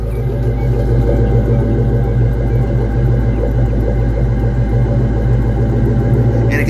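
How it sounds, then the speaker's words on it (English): A 1997 Ford Mustang SVT Cobra with a Flowmaster exhaust idles close up in a steady, loud, deep burble with an even low rumble that never lets up. "Let's go to the exhaust so you can hear it."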